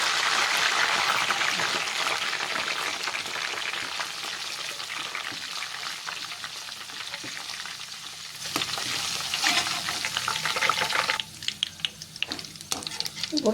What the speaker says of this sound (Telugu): ఇప్పుడు పుదీనా కూడా డీప్ ఫ్రై చేసుకోవాలి